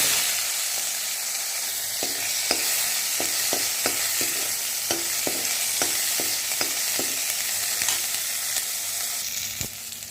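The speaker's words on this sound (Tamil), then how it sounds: "இதுலேயே சுண்டைக்காய் போட்டு நல்லா பொரியும்" Turkey berries (sundakkai) frying in hot oil, a bright continuous sizzle and hiss with regular clinking stirs from a spoon against the pan, steady and close, with no one talking.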